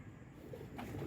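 Pigeons coo softly and briefly at night during a pigeon catch, with a low, muffled cooing close by and no talk.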